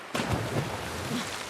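A loud, broadband water splash from a character jumping into water in The Last of Us Part II, with a sharp entry followed by a sustained rushing wash that fades slowly.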